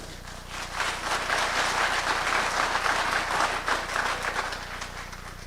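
Audience applause fills a townhall meeting hall in Edmonton, a dense, steady wash of many hands clapping that swells and holds for several seconds with no voices over it.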